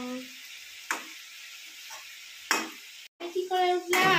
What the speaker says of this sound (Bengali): মা এখন কি করছে? তরকারিটা রান্না করছে।